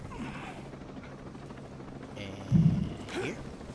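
Helicopter rotor chop in a PS4 video game, a steady low thrum running throughout, with a louder bump midway and faint voices in the background.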